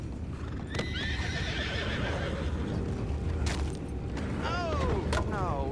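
Horses from the Red Dead Redemption 2 video game whinny several times over steady hoof clip-clop, with layered ambient game sound throughout.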